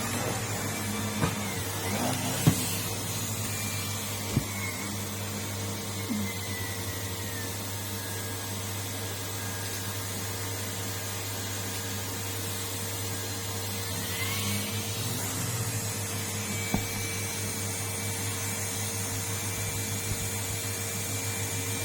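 A Numatic Henry vacuum cleaner runs continuously nearby, a steady whirring hum with a few faint bumps and knocks as it moves, and no voices.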